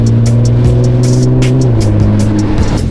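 Nissan GT-R R35 idling while warming up, a steady close engine drone with low harmonic tones that shift slightly in pitch, alone without talk.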